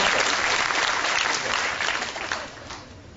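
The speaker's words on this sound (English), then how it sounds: "By round of applause, so many people did see it." An audience at a card magic show claps in a full round of applause, thick and steady at first, then thinning and fading toward the end.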